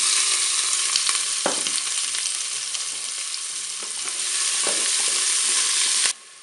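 Onions sizzle and fry in a preheated Cookeo multicooker with olive oil, a loud, bright, continuous crackle broken by occasional stirring clicks, cutting off abruptly near the end.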